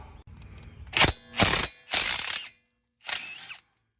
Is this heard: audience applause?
no